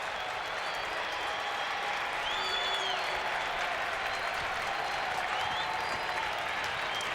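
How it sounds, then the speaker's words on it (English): A baseball stadium crowd at a Cardinals–Astros game applauds a player, a steady, even roar of clapping and crowd noise heard from a distance and sustained without a break. "Another nice round of applause for Lance Berkman."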